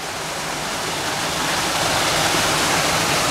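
A freshwater waterfall at the Bronx Zoo pours in a steady, loud, close-up roar of rushing water, continuous throughout with no voices.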